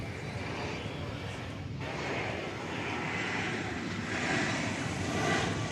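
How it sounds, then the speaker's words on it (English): An American Eagle Embraer E-Jet arriving at Dallas Fort Worth airport, a steady broadband jet engine roar that holds throughout and swells slightly toward the end, with no talk over it. "we'll widen out to bring you the arrival of American Eagle Flight 3373. It is an E-Jet, as you can see."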